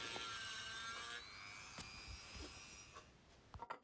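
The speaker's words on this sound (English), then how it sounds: "So I used my Dremel with a carbide burr, very carefully remove weld from the side only" A Dremel fitted with a carbide burr grinds weld from the side of a recess in Kawasaki Z1 motorcycle cylinder barrels, a steady high-pitched whine with scraping metal, then several short bursts and pauses near the end.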